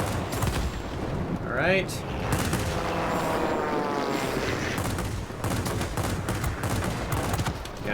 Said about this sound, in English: Let's go ahead and drop a bomb, drop a bomb.